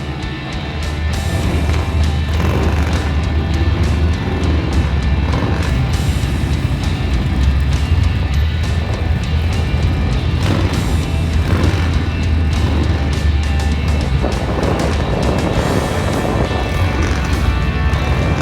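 Ford Barra and V6 cars racing on the Willow Bank track, heard from onboard as a continuous rough engine roar with heavy wind buffeting, loud and steady throughout.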